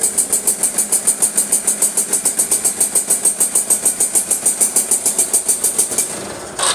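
A Honda CB motorcycle, started with its electric starter, runs with a loud, rhythmic pulsing engine beat that stays steady and close throughout, then cuts off abruptly at the end.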